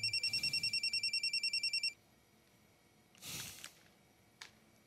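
A landline home telephone rings in rapid repeated electronic trills for about two seconds, then stops, followed by faint rustling and a brief muffled thump in a quiet room.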